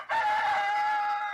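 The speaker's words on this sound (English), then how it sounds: "Shut that rooster up!" A rooster crows once, loud and close, in one sustained and slightly wavering call that holds steady before tapering off.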